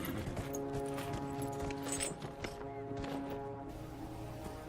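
Horse hooves clip-clop in the Dragon Age Inquisition video game, a steady run of hoofbeats over a continuous background of ambient game music and tones, moderately quiet.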